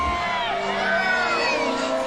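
A large outdoor crowd at the Hobbit film premiere cheers and shouts continuously, a dense roar of voices with whoops, close and loud throughout.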